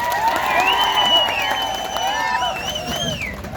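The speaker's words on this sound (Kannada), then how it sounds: "ನಿಜಕ್ಕೂ ಕೂಡ ಅವರಿಗೆಲ್ಲ ಜೋರು ಚಪ್ಪಾಳೆ ಹೊಡಿಬೇಕು." A large crowd at a home guards' rally claps and cheers steadily, with whoops and shouts rising over the dense applause for several seconds.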